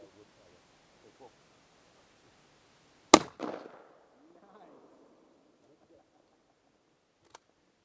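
A single loud shotgun blast outdoors, followed by a short rolling echo that fades, with quiet surroundings before and after and faint voices at the start.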